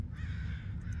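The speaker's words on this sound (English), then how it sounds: "And there's a crow." A crow in the Summer of '58 video game gives a single harsh, drawn-out caw over a low rumbling ambient drone.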